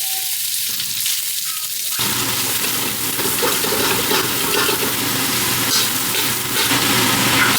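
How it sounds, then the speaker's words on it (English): Pork fat hitting a very hot wok for yakisoba bursts into loud, steady sizzling and frying after a brief quiet start, holding a dense hiss throughout with faint stirring. "First thing I'm doing, adding the pork fat. It's already really hot"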